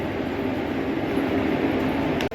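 Train at Parli Vaijnath railway station in Beed, a steady loud rumbling drone of the passing or idling train, close and continuous with a brief dip near the end.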